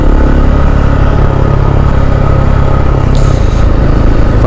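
A KTM 690 SMC R supermoto with an aftermarket exhaust runs at steady throttle while riding, giving a loud, continuous single-cylinder drone mixed with heavy wind rumble and no talking.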